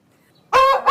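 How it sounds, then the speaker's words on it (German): A single rooster crow rings out loud and close in the second half after near silence, with a bright, harmonic call that breaks briefly before one last rise. "Dieser hier hat nur einmal gekräht."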